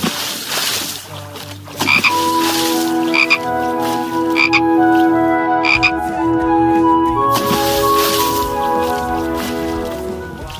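Frog croaks sound in a children's nursery rhyme song, several short bright croaking bursts spaced over sustained musical tones and backing music throughout.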